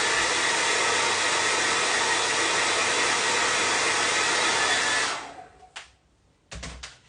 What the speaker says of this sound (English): my favorite is the hair dryer